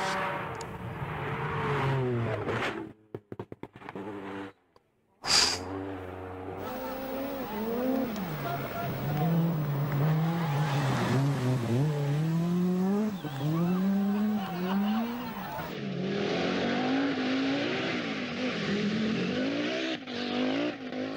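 Group B rally cars racing past, engines revving and roaring loudly with rising and falling pitch, after a brief dropout near the start.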